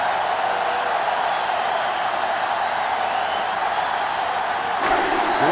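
A stadium crowd at a Michigan at Iowa college football game in NCAA Football 07 roars as a steady, loud wash of noise, with a brief sharp click near the end.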